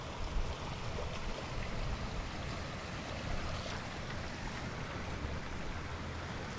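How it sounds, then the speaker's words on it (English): Faint, continuous rushing of a flowing creek, an even broadband wash with no voices. "There's Cabin Creek right here, flowing."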